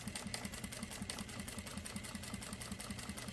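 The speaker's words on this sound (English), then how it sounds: "Then I'll press the foot pedal forward and it starts sewing." A Jack A4 sewing machine stitches at a steady fast rhythm, with regular needle clatter pulsing evenly over a soft motor whir. The sound is close and fairly quiet, with no talking.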